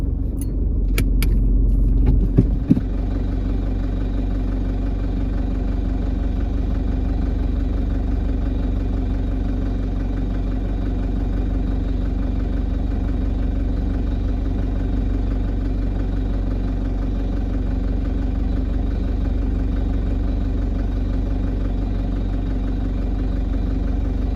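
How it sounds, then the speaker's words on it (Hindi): A vehicle's engine idles with a deep, steady rumble while it sits badly stuck in soft ground during a winch recovery on an Australian deer hunt; a short clatter of keys or handling opens the clip before the even drone continues unbroken. "तौसीफ भाई की गाड़ी बड़ी बुरी तरह से फंसी है और अभी उसको विंच कर रहे हैं"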